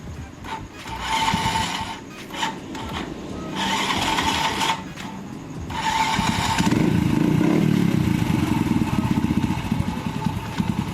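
A nine-year-old SYM 110 motorcycle (SYM RV1-2) runs with a steady, quiet engine hum close by; the engine note grows fuller and steadier about halfway through, with no talking.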